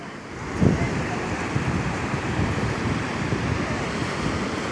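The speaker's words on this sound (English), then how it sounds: "just hear the crashing waves and all that good stuff" Surf breaks continuously on the Southern California coast in early evening, a broad steady wash with one louder crash near the start, heard close with wind buffeting the microphone.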